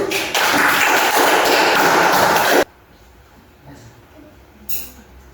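Classroom applause during a lesson, a dense burst of clapping for a few seconds that stops abruptly, followed by quiet room tone with a faint tap or two.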